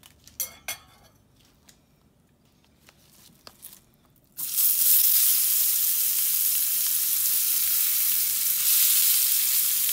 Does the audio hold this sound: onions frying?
yes